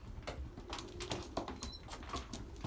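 Young pigeons in their new loft, faint soft cooing with scattered flutters, scratching and pecking taps at an uneven rhythm, quiet and close, with no talk.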